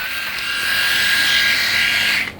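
A Remington Virtually Indestructible rotary electric shaver runs with a steady, close, high-pitched whirring buzz for about two seconds, then cuts off abruptly, with no talking over it.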